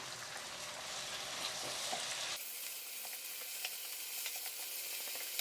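Vegetables frying in a pan for curry give a continuous soft hiss and crackle that thins out partway through, close by, with light stirring scrapes and no talking.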